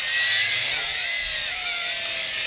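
Tarantula X6 quadcopter drone in flight, a loud, close, steady high-pitched motor and propeller whine that shifts slightly in pitch as the throttle changes.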